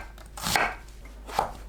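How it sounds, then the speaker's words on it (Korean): A knife thinly slicing an onion on a cutting board, two distinct crisp cuts with a pause between them, close and clear with no talking. "양파를 채 썰어줍니다"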